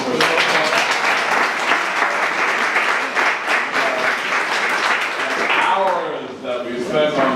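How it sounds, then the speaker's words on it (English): Audience at a community town hall meeting breaking into sustained applause and hand clapping, loud and dense for several seconds before thinning out, with voices talking over it toward the end. "Give her a big hand clap."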